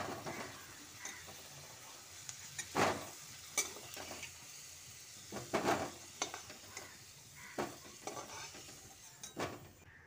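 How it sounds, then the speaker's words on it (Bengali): Potato pieces fry in oil over medium heat until lightly browned, giving a steady sizzle broken by occasional stirring scrapes and clinks of a spatula against the pan. "মিডিয়াম আঁচে আলুগুলোকে হালকা বাদামি করে ভেজে তুলে নিচ্ছি"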